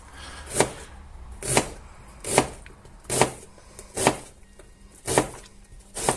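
A knife chops an onion finely on a cutting board, seven or eight crisp evenly spaced strikes close by, with quiet pauses between.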